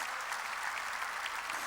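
A church congregation breaks into dense, even applause, a brief burst of many hands clapping at once with no voices over it.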